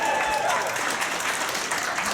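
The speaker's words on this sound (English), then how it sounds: "Don't clap that." A comedy show audience claps steadily in a dense, even burst of applause, with faint crowd murmur underneath throughout.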